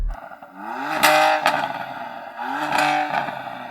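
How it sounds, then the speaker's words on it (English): A BMW M2 CS with an Akrapovic exhaust revs twice in quick succession nearby, each rising engine note climbing sharply then dropping back, with crackles between the blips. "let's have a listen to your M2 CS"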